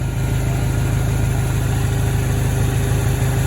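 A Dodge SRT-4 turbocharged car engine runs steadily nearby, a continuous loud low rumble with an even throb and no voices over it.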